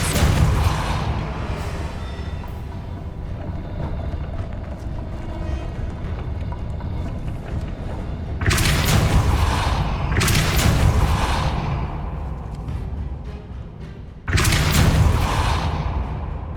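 Heavy magical blasts from the Depulso spell in Hogwarts Legacy boom over a dense, rumbling game soundscape, with two or three loud bursts standing out against a continuous roar.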